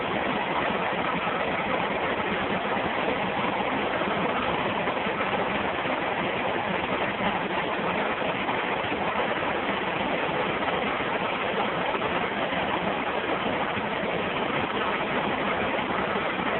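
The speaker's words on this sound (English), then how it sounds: "Okay, so the fans kick in, brings that high side right back down." Condenser fans on a car's air-conditioning system running steadily with the engine idling, a broad constant whoosh with a low engine hum underneath, no talk.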